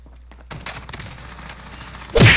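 Gallo SA12 shotgun fire in the Warzone video game: a loud, close burst of blasts starting sharply, followed by a heavy thumping impact at the end.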